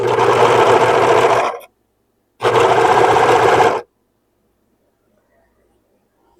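A sewing machine overcasts the armhole sections of a dress in two loud, steady bursts of rapid stitching, each about one and a half seconds long, separated by silence, with a third burst starting at the end.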